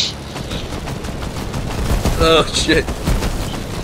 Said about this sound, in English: I hope that's you shooting at me, man.